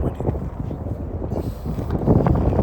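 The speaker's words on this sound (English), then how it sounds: "It's still windy over here." Gusty wind buffeting a microphone outdoors, low rumbling bursts that rise and fall unevenly, strongest near the end.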